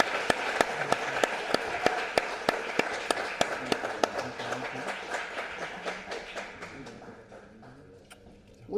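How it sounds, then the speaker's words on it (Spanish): Applause at a scientific society meeting: a crisp run of regularly spaced claps, fairly near and steady at first, thinning and fading away toward the end. "Un fuerte aplauso."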